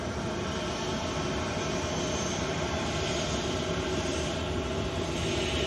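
Ryanair jet spooling up for a turn-and-burn takeoff, a broad steady roar of engine noise that holds loud and even throughout with no pauses.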